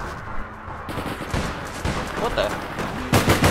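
Sniper gunshots in the APB Reloaded video game: scattered sharp reports, ending in a louder rapid burst, while a man briefly exclaims.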